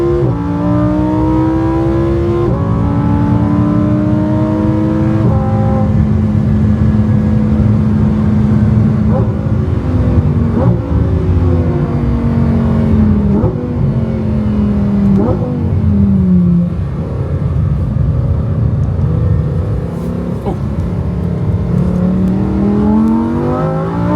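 Lamborghini Huracan STO sports car accelerating hard from inside the cabin, its engine note climbing repeatedly through the gears with sharp shifts, loud and continuous, with a few voices speaking over it.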